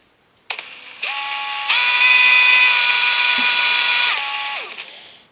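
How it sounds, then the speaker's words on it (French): Power drill boring two shallow 3 mm pilot holes into wood, the motor whining up in stages, running steadily for a few seconds and spinning down, loud and close with no talk. "Je vais percer 2 trous de 3. C'est juste pour pré-marquer, hein, juste en surface."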